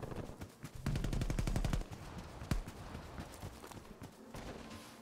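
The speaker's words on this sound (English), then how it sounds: "Got him in the face with a shotgun." Gunfire in a Black Ops multiplayer match on a Miami map, a loud burst of rapid shots followed by a single sharp blast and scattered lighter shots amid game noise, with no speech.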